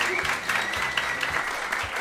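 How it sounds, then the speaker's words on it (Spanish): Applause on a Spanish-language talk show, a brief burst of clapping with individual claps standing out, fairly close and moderately loud, with a voice faintly underneath. "Un fuerte aplauso para ellos."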